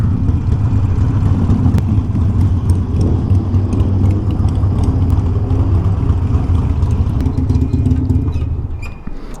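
Indian Scout bobber and Harley Sportster motorcycles riding together on city streets in Philadelphia, a loud steady close engine rumble with wind noise that eases slightly toward the end.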